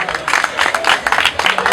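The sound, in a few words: audience applauding the master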